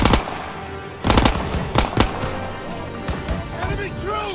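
Machine gun fire in Call of Duty WWII during the Stronghold mission rattles in loud, rapid bursts amid dense battle noise, with heavy impacts and shouting voices mixed in.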